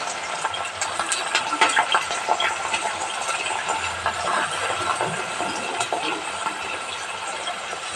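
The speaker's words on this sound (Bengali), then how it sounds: "এবার আমি পেঁয়াজটা দিয়ে দেবো। পেঁয়াজটা ভালো করে ভেজে নেবো।" Sliced onions fry in hot oil in a kadai while kadai chicken is cooked, giving a continuous close sizzling hiss scattered with small crackles and pops, with no talking.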